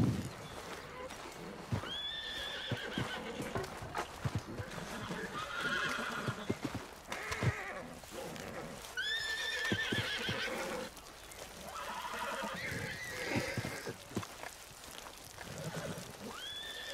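Horses in Red Dead Redemption 2 whinny several times over clip-clopping hooves, with neighs rising sharply at intervals amid steady game background noise.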